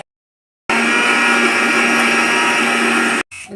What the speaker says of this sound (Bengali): এই যে পালং পাতা ধনিয়া পাতাটা মিক্সিংও দিলাম ওই বাটি